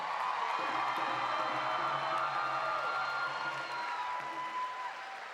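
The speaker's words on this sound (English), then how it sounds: "A round of applause for our newly married couple." A crowd in a theater gathering applauds a newly married couple with a steady, broad wash of clapping and some cheering. It sounds moderately distant and holds evenly before easing slightly at the end.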